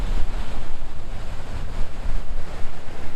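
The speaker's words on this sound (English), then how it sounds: "We've come down to the waterfall." Steady, broadband rushing water from a waterfall in Glen Etive, Scotland roars continuously, dense and fairly loud, with a low rumble throughout and no voices.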